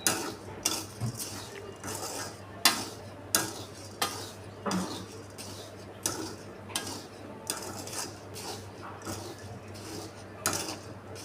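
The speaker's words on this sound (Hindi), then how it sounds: "तो हमने डाल दिए गेहूँ यहाँ पे, नमक गर्म हो गया है और ये एकदम से ये फूल जाएंगे।" Wheat grains are roasted in hot salt in a pan over a medium gas flame and stirred continuously, giving rhythmic scraping and rattling strokes about once a second with a faint steady hum underneath.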